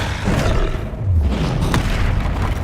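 A Confringo explosion spell booms in the Hogwarts Legacy video game, a loud, close, rumbling blast that keeps going for a couple of seconds amid dense game noise, with no voices.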